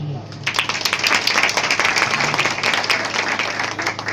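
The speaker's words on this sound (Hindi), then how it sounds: "भाई वास्ते तालियां" Audience applause at a Christmas gathering, a dense steady wash of clapping that carries evenly across the whole stretch, fairly loud and close with no pauses.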